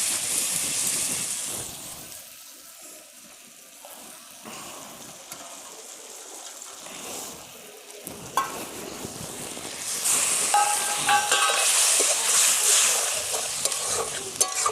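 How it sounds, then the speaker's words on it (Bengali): Egg and cabbage frying in a pan, a steady sizzle and hiss with stirring scrapes throughout, growing louder and more intense in the second half. "এটাকে ভালো করে ভেজে নিই"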